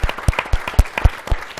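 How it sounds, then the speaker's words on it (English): A panel discussion on identity, culture and conflict resolution ends with a short burst of audience applause, a brisk uneven rhythm of loud, close claps lasting under two seconds. "Let's give them a round of applause"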